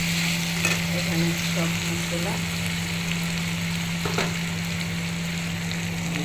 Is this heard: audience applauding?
no